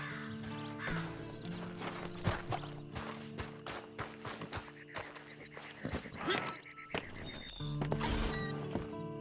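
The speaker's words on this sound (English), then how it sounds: "And you better get on this horse." Horse hooves clip-clop and a horse neighs in Red Dead Redemption 2, with steady hoofbeats under a busy layer of game sound and music; no one speaks.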